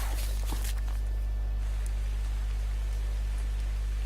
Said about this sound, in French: Ah, il pleut apparemment, ouais.